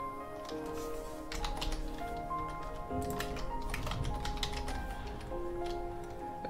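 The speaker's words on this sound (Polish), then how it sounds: "musimy sobie wymyśleć hasło i tutaj wpisać i ponownie wpisać" Quiet, rapid clicking of keys on a computer keyboard as a password is typed, in irregular bursts of taps with short pauses between them.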